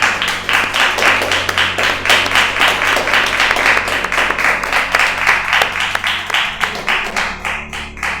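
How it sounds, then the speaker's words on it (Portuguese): A church congregation claps during a worship service, a dense, steady round of applause from many hands filling the room, with rhythmic pulses coming through as it goes on. "E as palmas louvam o nome do Senhor Jesus"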